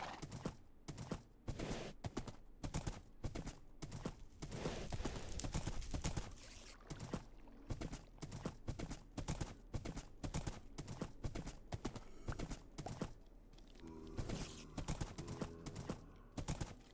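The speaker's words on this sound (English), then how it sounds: "See if I can tame this horse." Horse hooves clip-clop in steady repeated beats throughout, loud and close, from a horse in the Minecraft server 2b2t, with no talking over it.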